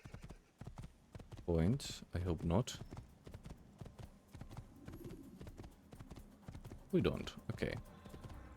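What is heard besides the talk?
horse hooves clip-clop in Assassin's Creed video game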